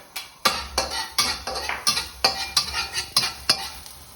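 Garlic frying in oil in a wok, with repeated spatula strokes scraping and clinking against the metal at a steady rhythm over a continuous sizzle, close and clear, with no voices.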